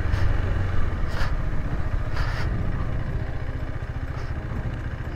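A motorcycle engine idles steadily as the bike stops on a highway, a close, low rumbling putter with a couple of faint passing noises behind it and no talking.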